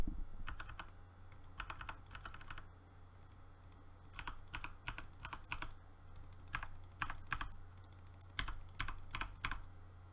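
Close keyboard typing in quick bursts of clicking keystrokes, separated by brief pauses, over a low steady hum.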